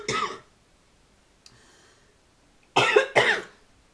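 A person with a cold and cough gives a short cough, then after a quiet pause two loud, close bursts of coughing and throat clearing, alone with no talk.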